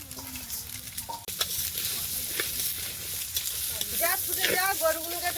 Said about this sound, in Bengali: ডাল আর তেল একসঙ্গে ভালো করে মিশিয়ে নিচ্ছে